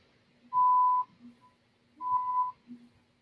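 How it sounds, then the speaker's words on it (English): Car radar detector inside a vehicle sounding two clear electronic beeps about a second and a half apart, each a steady mid-pitched tone lasting roughly half a second, with quiet cabin hum between. "That beeping is me. It's my radar."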